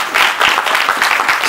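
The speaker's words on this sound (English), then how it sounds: "Give yourselves a round of applause." A live audience bursts into brief, loud, close applause, a dense, crackling clatter of many hands with no voices over it.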